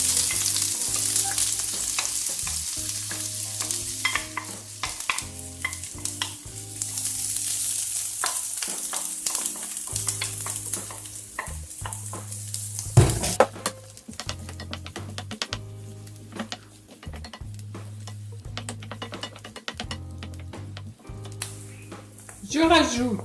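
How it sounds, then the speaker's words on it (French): Onions and garlic fry in a hot pan with a steady sizzle, alongside a continuous tonal hum and occasional clatter from stirring. "Je rajoute les oignons et l'ail."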